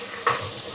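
Spoonful of ground spice paste stirred into hot oil in a pan for cassava-leaf curry, a brief scrape and clatter followed by a soft, steady sizzle.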